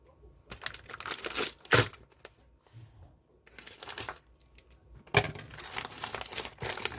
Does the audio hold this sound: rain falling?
no